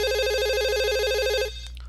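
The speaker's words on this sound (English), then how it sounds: "both of us jump in surprise at the ringing suddenly coming from my pocket" A phone rings from a pocket in the visual novel Katawa Shoujo, a steady warbling electronic ringtone that plays loud and close for about a second and a half, then cuts off abruptly, leaving faint background music.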